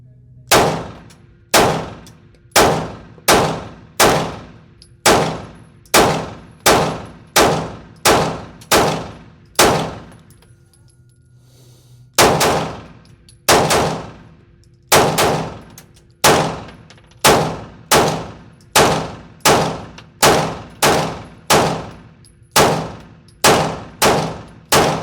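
Glock 19X pistol fitted with a Recover Tactical S-Pro brace fires a steady string of loud, sharp shots at 20-yard targets, each crack followed by a brief ringing decay, with a short pause midway before the rapid firing resumes.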